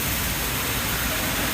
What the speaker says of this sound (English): I love it when it rains, I'm not even gonna lie.